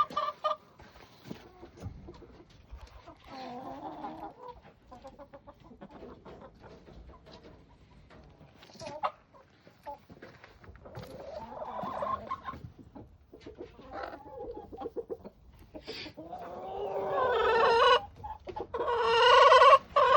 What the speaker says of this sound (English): Then see, you got the rooster right there.